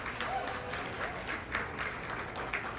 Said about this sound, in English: Let's give all these kids a big round of applause